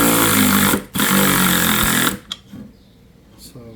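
A cordless 12V ratchet wrench whirs loudly and steadily for about two seconds, pauses briefly, runs again, then stops, leaving quieter handling clicks.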